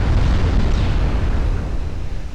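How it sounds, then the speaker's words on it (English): A heavy shell explosion booms across a battleship in the naval game UA: Dreadnoughts, a dense roaring blast that slowly rumbles away over a couple of seconds with no voices. "Gonna get some big hits on his battleship now."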